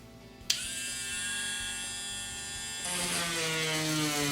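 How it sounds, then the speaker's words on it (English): Drill fitted with a glass-cutting bit boring into windshield glass, a steady high-pitched whine starting abruptly and running continuously, rising slightly in pitch and intensity partway through, close and fairly loud. "drill with a glass cutting bit and adjust it to the high or low speed setting"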